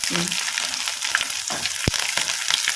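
Garlic sizzles and crackles steadily in hot oil with lentils and mustard seeds, close and continuous, with a brief stir of the pan partway through.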